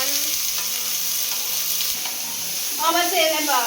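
Chicken biryani ingredients fry in hot oil toward golden brown with a loud, dense, continuous sizzle up close. The bubbling grows livelier near the end.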